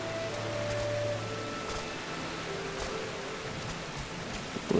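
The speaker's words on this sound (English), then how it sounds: "It's raining." Steady rain falling in the Final Fantasy XIV video game, a continuous even hiss with faint tonal game sounds in the background and no speech.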